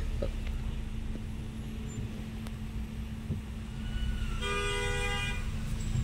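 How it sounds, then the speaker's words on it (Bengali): Car horns honk at a toll plaza on a drive from Kolkata to Purulia, with one long, multi-toned horn blast near the end over a steady hum of idling engines and traffic. "এক একজনের এরকম স্বভাব থাকে হর্ন বাজানো। টোল ট্যাক্সের এখানে হর্ন বাজাবার কোনো দরকার আছে?"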